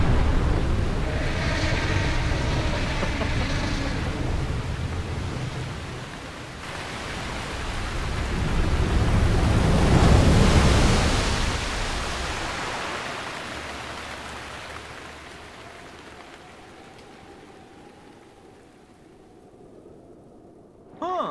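Water rushes and pours out of the giant mechanical elephant Vah Ruta in The Legend of Zelda, a loud, steady broadband roar that swells in the middle and then slowly thins and fades toward the end.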